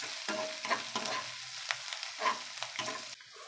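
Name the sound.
stir-frying garlic and ginger in hot oil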